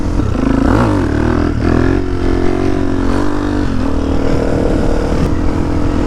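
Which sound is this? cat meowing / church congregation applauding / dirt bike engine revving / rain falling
dirt bike engine revving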